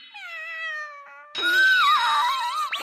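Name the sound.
kitten meowing in an anime clip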